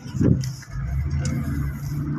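Street traffic in Makati, Philippines: a steady low rumble of car engines with passing vehicle noise, moderately loud and continuous, no talking.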